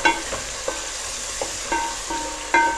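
Green chilli paste frying in a pan with spices, a steady broadband sizzle punctuated by several sharp stirring scrapes and clinks, close and fairly loud, with no talking.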